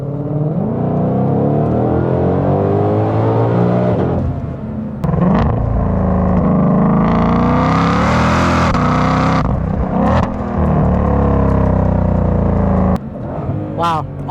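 A 2020 Shelby GT500 engine revs up hard through rising gears, the pitch climbing and dropping with each shift, loud and close with brief pauses between pulls.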